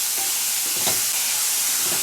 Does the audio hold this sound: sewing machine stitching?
no